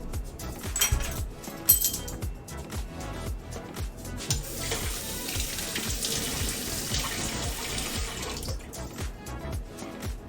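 Water runs steadily from a kitchen tap while an egg recipe is prepared, a continuous splashing stream with a few clinks of dishes near the start, close and fairly loud, with no talking.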